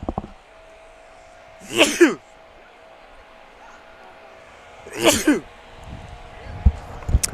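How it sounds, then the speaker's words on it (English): Two sharp sneezes burst out a few seconds apart, loud and close, with quiet background and a few faint thumps between. "I'm sure all the other reporters around me are happy that I just sneezed on their broadcast"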